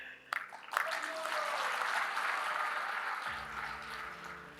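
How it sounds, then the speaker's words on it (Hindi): Audience applause during a speech at a commemorative event in a large hall, a steady wash of many hands clapping that swells after a couple of sharp onsets and carries on for several seconds. "अभी जब आप कर रहे थे और मैं ताली बजाना शुरू हो गया"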